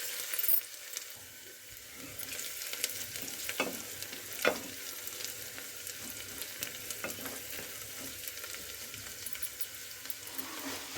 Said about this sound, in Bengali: তেজপাতাটা দিয়ে আমি আবারও নেড়ে চেড়ে নিচ্ছি ভালো করে।